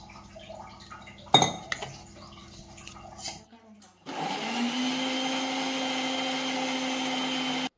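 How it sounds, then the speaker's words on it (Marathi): Kitchen clatter and faint talk give way to a mixer grinder starting up, whirring loud and steady for several seconds as it blends onion and fresh coriander with a little water into a paste. "आता मिक्सरला आपण कांदा आणि कोथिंबीर थोडं थोडं पाणी घालत पेस्ट बनवून घेतली त्याची"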